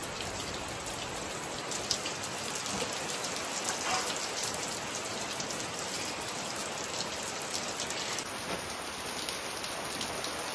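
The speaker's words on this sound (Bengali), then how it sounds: "আর এই দেখো কেমন বৃষ্টি পড়ছে" Heavy rain falling steadily, a dense continuous hiss of drops striking surfaces nearby, with no talking.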